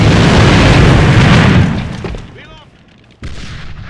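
A grenade blasts in the online shooter AVA, a loud broad boom that rolls on for about a second and a half before decaying, followed by faint game sounds and a short sharp burst.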